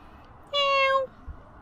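A single clear cat meow, close and fairly loud, lasting about half a second against a quiet background.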